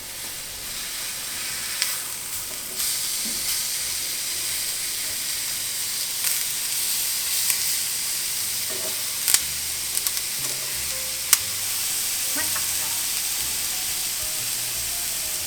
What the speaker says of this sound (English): We're gonna sear it on the other side too.